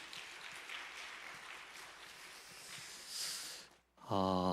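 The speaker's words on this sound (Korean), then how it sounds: "다 같이 환영하는 마음으로 큰 박수로 부탁드립니다." A church youth congregation claps in welcome for the pastor before a Sunday sermon, steady moderate applause for nearly four seconds that stops abruptly before a voice begins speaking.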